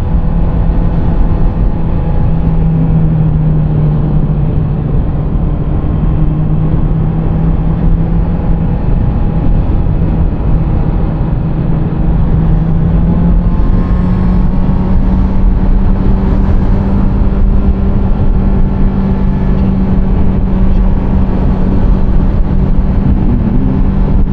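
A Honda CBR650R motorcycle rides at steady speed, its engine droning loud and continuous under heavy wind rush, with the pitch dipping and rising as gears change; no voices.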